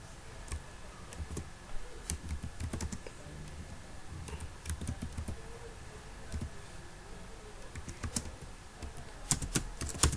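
Java code being typed on a computer keyboard, quick irregular bursts of soft key clicks with short pauses between them, faint and close, with no talking.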